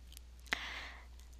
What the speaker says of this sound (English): I click save.